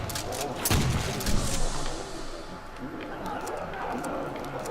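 Gunfire from Call of Duty Zombies on the Nacht der Untoten map comes as a few sharp shots early on, then a busy game soundscape rumbles on while a player talks over it.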